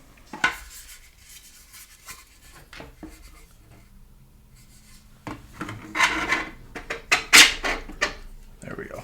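Parts of a Meta Quest VR rifle stock slide and clamp together with loud plastic scraping and rubbing, sparse at first, then a dense burst of sliding and clicking near the end, recorded close.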